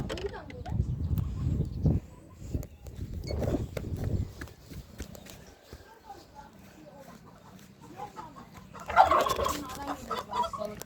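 A turkey gobbles nearby in a farmyard, with a sharp burst of gobbling standing out near the end while people talk around it.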